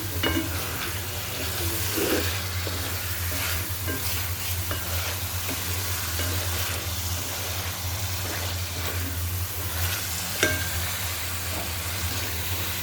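Fried potatoes and brinjal are stirred with spices in a hot, oily pan for a tilapia fish curry. A steady sizzle runs throughout, with occasional scraping and knocks of the spatula against the pan.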